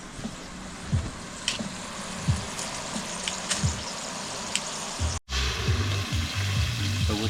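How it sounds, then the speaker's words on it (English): Sauce stir-fried in brisket grease at a lakeside campground sizzles and fries steadily, with the scrape of stirring and faint outdoor noise around it. "So with the brisket grease, you want to stir fry the sauce first."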